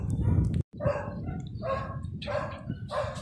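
Dogs barking on a Baguio City street, a run of sharp close yaps and barks in quick bursts with brief gaps, one abrupt cut near the start, over faint background noise.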